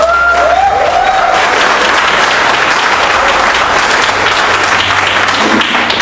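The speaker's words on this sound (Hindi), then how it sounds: "जोरदार ताली होनी चाहिए" Loud, sustained applause from an audience at a training meeting: dense clapping that holds at full strength for about six seconds, with no voices over it.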